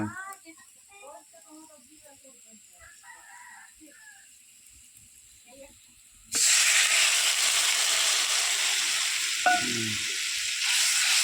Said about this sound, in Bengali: ভালো করে কষবো মশলাটাকে